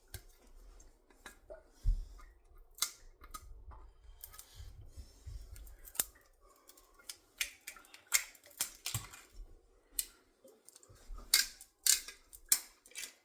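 Kitchen scissors snip through sausages in a series of sharp, close clicks and crunches, irregular at first and then coming faster in quick bursts, with no talking.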